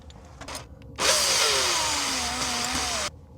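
A power drill whirs for about two seconds while driving a screw to attach a diesel heater exhaust, its pitch sagging under load before cutting off, loud and close, with faint handling clicks before it.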